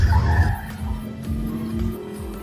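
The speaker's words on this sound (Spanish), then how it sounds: "En una fracción de segundo el coche adelanta al oponente." A race car in a street-racing film scene surges past an opponent, engine roaring and tires squealing over a dense, loud mix of rumbling motor and layered effects.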